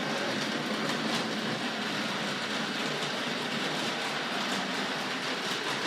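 Tri-ang and Hornby Dublo model trains running on a layout, a steady close whirring rumble with light rhythmic clicking of wheels on track rail joints, continuous and unbroken with no voices.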